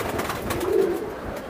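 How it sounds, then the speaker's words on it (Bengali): Racing pigeons coo close by, a single soft, low, throaty coo rising out of faint background noise. "এই যে দেখেন কবুতরগুলা"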